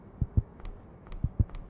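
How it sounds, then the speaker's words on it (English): An indie horror video game plays a heartbeat sound effect, two deep lub-dub thumps about a second apart, close and clear with a faint hum beneath. "I feel my heartbeat."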